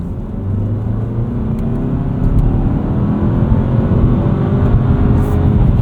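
A 2024 Mazda3 2.5 S with a manual gearbox revs hard in second gear toward redline, a loud, steadily rising engine drone heard from inside the car with no talking.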